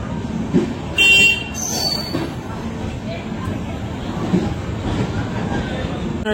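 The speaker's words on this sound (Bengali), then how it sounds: "এই যে আমাদের ট্রেন ঢুকলো।" A train pulling into a busy station in Puri: a loud rumble of rail cars with a shrill horn blast near the start, under crowd chatter and nearby voices.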